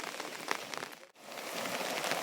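Rain falls steadily at a village pond during a downpour, a dense close patter of drops on water and surfaces that dips briefly near the middle before returning, with no talk.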